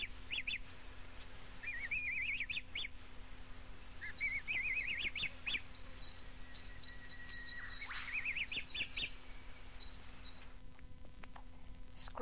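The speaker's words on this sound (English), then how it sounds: "Australian cassowary, adult and then chicks." Australian cassowary calls in tropical rainforest, with repeated short, high, whistling chirps from chicks coming in bursts over a steady low background hum and drone.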